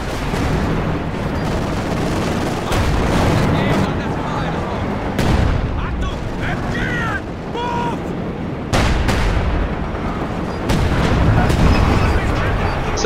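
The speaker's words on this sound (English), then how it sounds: "So many mortars." Mortar and artillery blasts from the World War II strategy game Company of Heroes 2 pound in dense, overlapping bursts throughout, with heavy booming impacts. A voice talks over the barrage.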